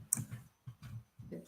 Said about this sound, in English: Hopefully I'm not typing this in wrong.